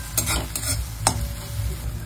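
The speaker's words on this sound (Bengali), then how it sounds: "এবার আমি তাই এই মশলাগুলো মিশিয়ে দেবো সব একসাথে।" Spices, tomatoes and slit green chillies stirred into lightly browned frying onions, a steady sizzle under a few distinct scraping strokes of a spoon against the pan.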